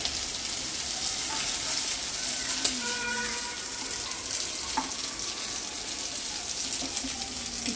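Prawns (kolumbi) fry in a pan with a steady, close, broadband sizzle that holds throughout, with a few light scrapes and clinks of turning.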